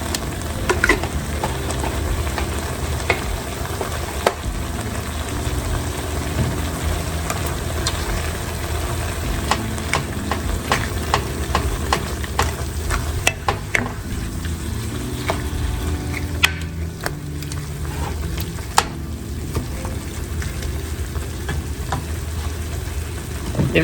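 Minced garlic sizzles steadily in a pan for beef empanada filling, a continuous crackling fry with occasional stirring scrapes and clicks, close and fairly loud, with no talking.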